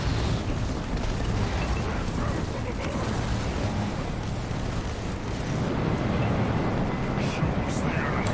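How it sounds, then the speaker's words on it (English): Vulture missiles launch and explode amid heavy metal units in a Firefight strategy video game match, a dense continuous barrage of rumbling blasts and bursts under constant battle noise, with commentary speech running throughout. "Vulture missiles fly off as well."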